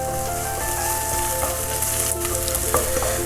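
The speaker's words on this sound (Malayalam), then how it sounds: "ഇഞ്ചിയും വെളുത്തുള്ളിയും ഒന്ന് പച്ചമണം മാറുന്നവരെന്ന് ഇളക്കി കൊടുക്കാം." Ginger, garlic and green chili frying in a pan for a chilli idli recipe, with a steady close sizzle and a few light stirring scrapes over the whole stretch, no voices.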